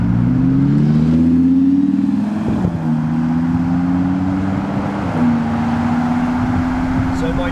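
An Audi R8 with a V10 engine drones loudly from the cabin while driving, its pitch climbing steadily, dipping briefly at a gear change and then rising again under constant road noise.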